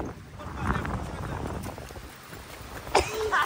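Horse hooves clip-clop in an uneven rhythm at moderate distance, with people talking over them.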